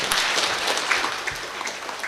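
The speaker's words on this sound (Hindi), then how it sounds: "जोरदार तालियां मनीष रंजन सर के लिए" An Engineers' Day ceremony in Jharkhand, where a hall audience applauds, a dense, steady wash of clapping held at an even level through a short stretch, with no talk.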